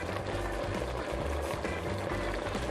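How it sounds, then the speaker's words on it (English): Continuous dense bubbling and low rumbling of base gravy for British Indian restaurant cooking boiling in a pot, steady and close, with no voices. "That's boiling and bubbling away there."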